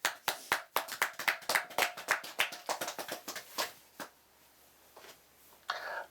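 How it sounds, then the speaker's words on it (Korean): A small audience claps during a talk, a quick run of sharp, close hand claps that thin out and fade to a few scattered claps before a final short burst. "박수가 왜 안 나오나 싶었어."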